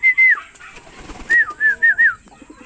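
Racing pigeons returning to their loft after a morning training flight, with two clear bursts of bright, rising-falling calls or whistles, a pair early and a run of four later, close by over a quiet background.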